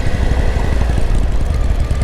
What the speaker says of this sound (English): So somehow I got my motorcycle at neutral.